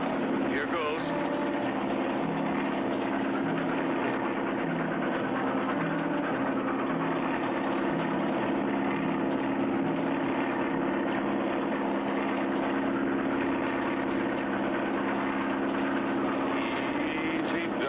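A small cartoon airplane's engine drones steadily as it flies low over a runaway train, a continuous hum running under voices talking throughout.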